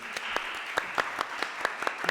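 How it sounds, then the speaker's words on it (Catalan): Sparse, scattered claps ring out from a small audience at a One Piece trivia prize draw at a comics convention, about a dozen distinct hand claps spread unevenly and fairly quiet. "Un aplaudiment."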